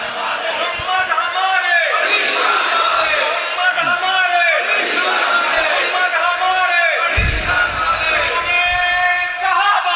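Large crowd of devotees raising a religious chant in praise of the Prophet Muhammad, loud and continuous with swelling shouts and overlapping voices throughout, a sustained roar of many people at a naat gathering.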